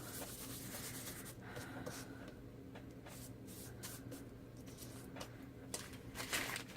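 Embossing buddy rubbed over Whisper White cardstock, soft brushing and scuffing strokes in irregular bursts, quiet and close, no voices.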